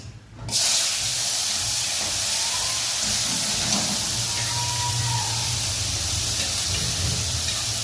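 Hot oil bursts into a sudden loud sizzle as onions go into a tempering of mustard seeds, cumin and asafoetida for an eggplant dish, then hisses steadily and close for several seconds.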